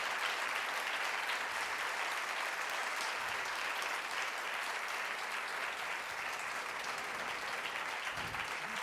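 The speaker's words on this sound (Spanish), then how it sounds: "les voy a pedir, lo primero, un fuerte aplauso para ellos." Sustained applause from a seated audience for Pedro Baños and Vicente Garrido at a book event, a dense, even wash of clapping that holds steady for several seconds, somewhat distant and with no talking.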